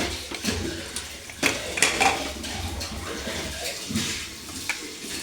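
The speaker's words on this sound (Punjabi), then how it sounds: "ਹੁਣ ਆਪਾਂ ਖੋਲ ਦਿੰਨੇ ਦਾ ਢੱਕਣ ਕੁੱਕਰ ਦਾ" A pressure cooker lid is worked open after the steam has been let out, with metallic clanks and scrapes of the lid and handle against the pot, some quick and bright, over a soft background hiss.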